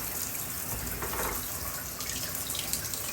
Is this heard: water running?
yes